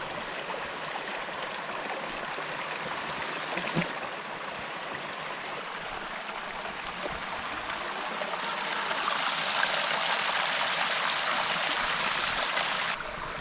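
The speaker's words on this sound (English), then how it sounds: "Up the waterfall, down the waterfall." Waterfall where Franconia Brook Trail meets Garfield Ridge Trail in the White Mountains, a steady rushing roar of water with no voices, swelling slightly louder partway through.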